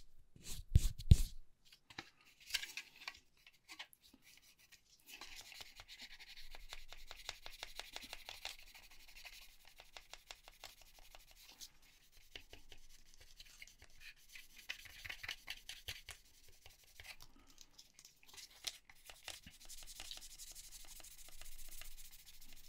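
Finer-grit sandpaper rubbed on a plastic 1/35 scale Buffalo 6x6 MPCV model kit gives soft, fast, rhythmic scratching strokes, close and quiet, after a few louder knocks at the start.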